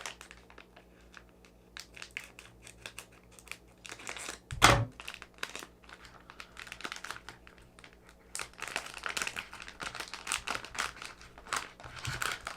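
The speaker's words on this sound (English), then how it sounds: "Let's use scissors for an exact cut." Close crinkling of plastic Angry Birds merchandise packaging being cut with scissors, with snipping, rustling handling noises and one sharp louder clack, quiet and intermittent.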